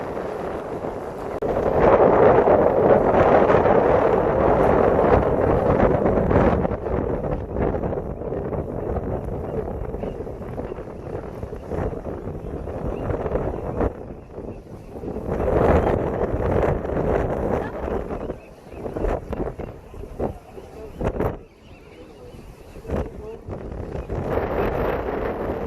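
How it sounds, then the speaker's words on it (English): Strong, cold wind roars steadily near Alcatraz in the fog, buffeting the microphone with loud gusts that swell and ease, and a person talks briefly within the rushing noise. "Ooh, it's windy and very cold."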